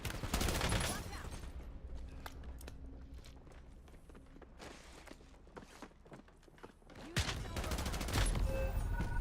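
Rapid gunfire bursts in the video game Warzone, loud and close at the start and again near the end, with quieter shots and clatter between.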